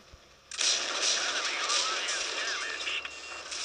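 Tank cannon blast from a T-62 in World of Tanks Blitz, a sharp onset followed by a long, loud rumbling roar with whistling overtones, continuing under in-game audio.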